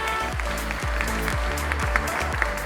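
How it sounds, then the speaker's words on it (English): A crowd at an awards ceremony claps steadily in continuous applause, with booming low musical tones sounding beneath it. "A huge round of applause, please, ladies and gentlemen"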